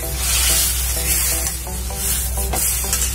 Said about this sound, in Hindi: और अब मैं ये अरवी इसमें डाल देती हूँ, कट करी हुई।